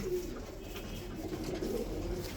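A silver pigeon coos softly and close by, a low murmuring call stretched over the short stretch against faint background noise.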